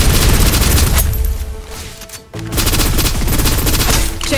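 Heavy sustained gunfire erupts in the shooter game Snowbreak Containment Zone, a loud rapid fusillade that thins briefly and then roars back into dense automatic bursts.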